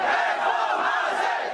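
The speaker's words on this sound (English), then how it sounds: "it seems that the crowds gathering outside the electoral office tell their own story" A large crowd of political supporters gathered outside an electoral office in Malaysia on election night, with a dense, continuous roar of cheering and chanting voices, loud and steady throughout.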